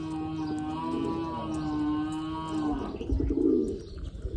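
Pigeons coo in a steady, throaty, continuous run close by, fading out near the end into rustling and soft knocks.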